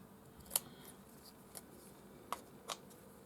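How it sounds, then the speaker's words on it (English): Scissors trim the corners of embroidery stabiliser held in a hoop, giving four quiet, crisp, separate snips spread out over a faint, hushed background. "you can also trim the corners up so that you haven't got the big corners sticking around"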